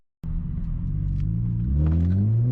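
A car driving just ahead of a V6 six-speed Honda Accord gives off a loud, close, deep engine rumble that starts abruptly and builds as it revs higher.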